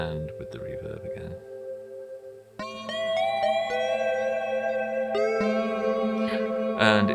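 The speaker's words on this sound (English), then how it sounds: "And with the reverb again." A Kodamo Mask1 synthesizer plays held chords that bloom into a washy reverb tail, shifting pitch a few times, with a muffled voice briefly near the start.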